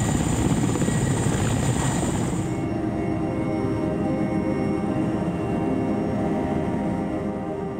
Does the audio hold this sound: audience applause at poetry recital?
no